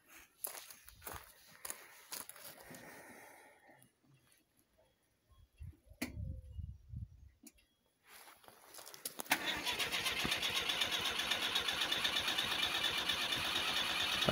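A 1976 Citroën GS Club that has stalled in deep cold gets restarted: footsteps and clunks, a few cranking bursts with pauses, then the engine fires and settles into a steady close running sound.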